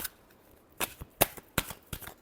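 Tarot cards being shuffled in the hands, a few quick separate riffling bursts close up against a quiet background, with no speech.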